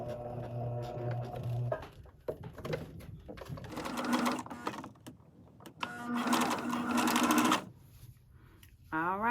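A sewing machine runs a straight top stitch along the edge of a fabric scrunchie in short bursts of rapid mechanical whirring, stopping and starting several times, close and clear.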